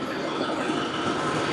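A rebuilt engine runs steadily with a loud, dense mechanical roar and constant hum, no pauses or talk.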